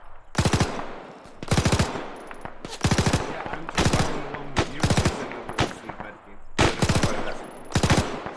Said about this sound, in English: Hey, watch the crossing fire.